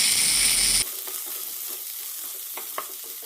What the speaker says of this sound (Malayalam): ഇതിലേക്ക് ബീൻസ് ഇടാം ഒരു മിനിറ്റ് നന്നായി ഒന്ന് വഴറ്റിയെടുക്കാം